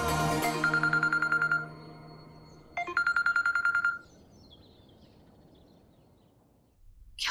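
A telephone rings in two electronic bursts of rapid trilling warble, each lasting about a second with a pause between, clear and close in an otherwise quiet room.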